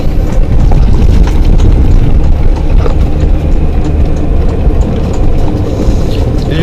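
Golf cart with knobby tires riding through a river community, gravel flicked up onto pavement amid a loud, continuous rumble of rolling and wind noise.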